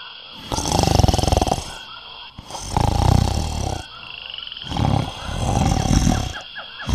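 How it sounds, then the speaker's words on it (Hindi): Loud, deep snoring from a rabbit asleep on a bed, three long rasping snores with heavy low rumbles, each swelling and fading in a slow rhythm, close up with no talk. "खरगोश बिस्तर पर दराज जोर जोर से खर्राटे ले रहा है"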